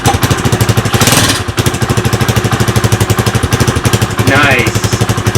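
A cold Lifan 140cc engine swapped into a Honda CT70 runs after being kickstarted, chugging in a loud, close, evenly pulsing beat, with a voice briefly over it.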